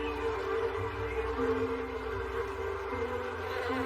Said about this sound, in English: we're used to seeing bees buzzing all over our orchards